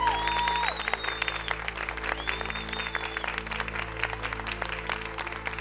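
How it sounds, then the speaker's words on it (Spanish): Studio audience applause at a televised talent show audition final in Panama, a dense, steady clapping that fills the whole stretch, loud and close, with faint tones over it. "Fuerte el aplauso nuevamente porque en verdad se lo merecen."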